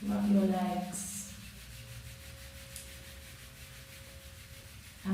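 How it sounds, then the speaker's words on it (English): Hands rubbing together during a family yoga session, a soft, steady dry friction that continues for several seconds, faint and close. "rub your hands together"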